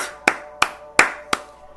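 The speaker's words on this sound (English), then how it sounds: "I clapped for this movie." Hands clap four times in a slow, uneven rhythm, each sharp crack standing alone and close against a quiet background.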